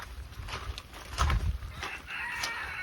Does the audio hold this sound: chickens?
yes